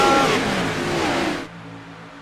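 Race cars roar loudly at Daytona in a sim racing video game, a dense, continuous engine blare with a high whine that drops away abruptly near the end, leaving a lower steady drone.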